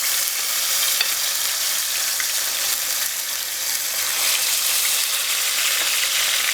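Steaks and pork chops sear in a hot pan with pepper and garlic, giving a steady, loud, close sizzle that holds evenly throughout with no talking.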